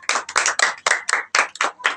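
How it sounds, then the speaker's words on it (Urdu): Children in a classroom clap together in a quick, brisk round of applause, loud and close, with sharp irregular claps close together for about two seconds. "تالیاں جی، تالیاں تالیاں، شاباش"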